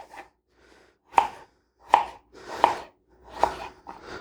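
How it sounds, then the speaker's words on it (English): A knife cuts through raw potatoes on a cutting board, five or so sharp close thunks spaced about a beat apart, with soft handling noise between them and no talking. "We're just going to cut our potato in half."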